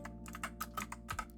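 Quick keystrokes on a computer keyboard type a command, about eight light clicks in a brisk burst, close and quiet, with no voices.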